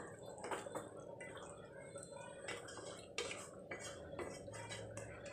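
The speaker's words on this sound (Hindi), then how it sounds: "इसको मिक्स करेंगे अच्छे से।" A spoon stirs curry of mutton with added water in a metal pan, giving repeated scraping and clinking strokes at an uneven rhythm, close and moderately loud, with no talking.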